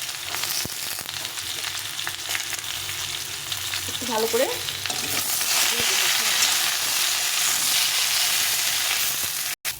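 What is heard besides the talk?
stirring brinjal and bean vegetables frying in a pan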